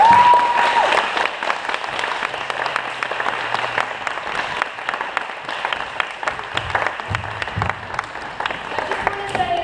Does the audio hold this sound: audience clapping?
yes